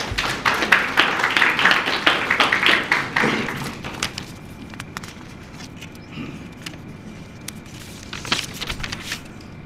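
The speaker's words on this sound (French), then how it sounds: "Applaudissements pour Cyril." Audience applause at a book launch in Mauritius, a dense burst of many hands clapping close and loud for several seconds, then thinning to scattered claps and a few late, isolated ones.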